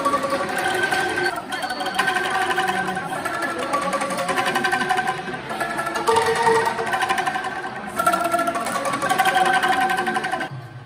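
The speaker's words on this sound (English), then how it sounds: "Angklung band, which is one type of Thai instrument, is playing during the monk is having lunch." A Thai angklung band plays at a temple New Year ceremony in Tampa, Florida, while monks eat lunch, producing a continuous shimmer of rapidly shaken bamboo tones carrying a steady melody.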